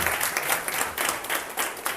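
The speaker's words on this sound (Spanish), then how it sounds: "pues un aplauso a Néstor." A lecture audience applauds with dense, steady clapping filling the room throughout.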